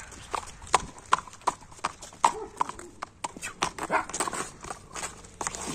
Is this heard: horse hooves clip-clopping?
yes